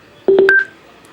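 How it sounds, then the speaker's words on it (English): A JBL Flip 2 portable Bluetooth speaker gives a short, clear pairing chime of three or four quick rising electronic tones, loud and close, lasting about half a second. "The beep sound indicates that the phone is connected to the speaker."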